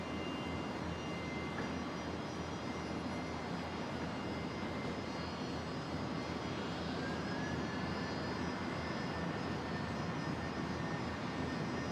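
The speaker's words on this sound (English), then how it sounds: "Jetstar 753 lining up. The 320 heading to Launceston down in Tassie." A Jetstar Airbus A320 lines up on the runway at Brisbane International Airport, a steady distant jet engine roar holding evenly the whole time.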